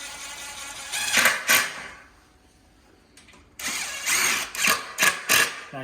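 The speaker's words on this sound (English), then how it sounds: "just tighten up your bolts" A power driver tightens bolts on a Backsaver cot, several loud close bursts of whirring and rattling, a pause, then another run of short repeated bursts.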